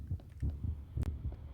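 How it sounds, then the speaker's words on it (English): A low, muffled heartbeat from the Minecraft mod The Broken Script throbs in a steady double-pulse rhythm, repeating several times, with a brief sharp click partway through. "That was like the same heartbeat that played when I spawned that."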